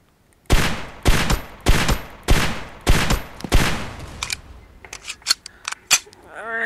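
Gunfire in Totally Accurate Gun Simulator: five loud, evenly spaced shots with ringing tails, followed by a run of quicker, lighter mechanical clicks and pops, close and clear with no talk.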